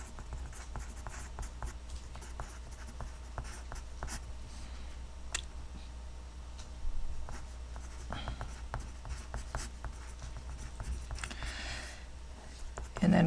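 Chalk or pen scratching out a trigonometric fraction during a lecture, a run of short close strokes and taps in uneven bursts, with a lecturer's voice talking over the writing.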